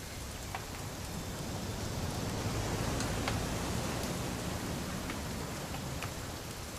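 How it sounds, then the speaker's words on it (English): Rain falls steadily in the video game What Remains of Edith Finch, a dense, even hiss of drops on surfaces with occasional sharper ticks, loud and continuous throughout. "It's gonna rain the whole weekend,"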